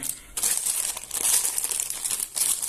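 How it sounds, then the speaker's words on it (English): Nylon hair extension fiber for a Bratz doll being cut with scissors, a dense, continuous crinkly rustle and snipping close up, lasting a few seconds with brief dips, no talking. "So now let's cut the hair."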